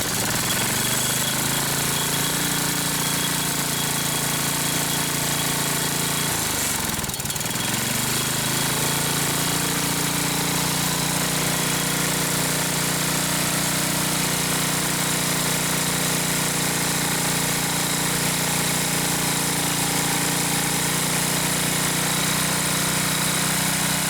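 Small overhead-valve engine running after valve adjustment, a loud steady rattling chug with a brief dip and recovery in speed partway through, then continuing evenly on its own.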